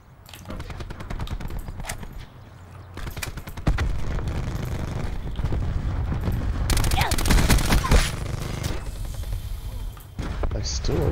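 Gunfire in the video game Call of Duty Black Ops 4, sustained bursts of automatic shots and heavy booms building over several seconds, loud and close, with people talking over the fighting.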